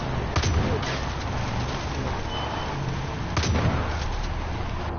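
Gunfire in the video game Far Cry 5, two muffled shots from shooting at an enemy, set in a steady low rumble of game ambience.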